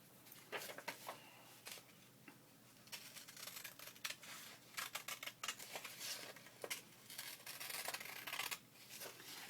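Scissors snipping through paper for an artist's trading card with a corset design, a quiet series of short crisp cuts in irregular bursts, close and faint, with no talking.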